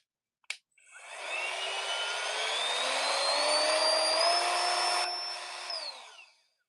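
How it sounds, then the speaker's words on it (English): A Ryobi router runs alone at close range, spinning up with a short click, holding a steady high whine that rises slightly in pitch, then winding down. "Ryobi router."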